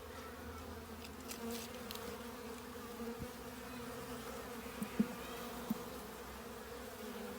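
Honeybees working an Australian hive as they draw out fresh comb on new foundation, making a steady, low, faint droning hum with a few soft knocks.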